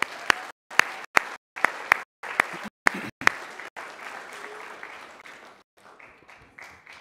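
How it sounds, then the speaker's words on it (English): Applause from the audience at a school board of directors meeting: about eight separate sharp claps at first, then a steady patter of clapping that fades out near the end. "Round of applause as well."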